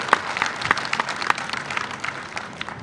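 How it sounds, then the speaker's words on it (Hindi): Applause welcoming the chief minister at a cobblers' community conference in Budhni, Madhya Pradesh: a crowd clapping in a steady patter of individual claps, moderately loud, with faint voices underneath. "जोरदार ताली बजाकर मुख्यमंत्री जी का स्वागत करें"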